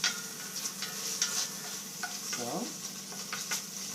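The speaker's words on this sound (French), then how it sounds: "on rajoute les lardons. Faire dorer dans le restant." Bacon lardons frying in the leftover fat of a pan while cooking rabbit chasseur, with a steady close sizzle, repeated scrapes of stirring and a faint murmur of voice at one point.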